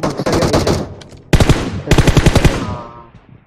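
Rapid automatic gunfire in the PUBG Mobile video game, loud and close, with a rattling burst followed by a second burst of evenly spaced shots that fade out.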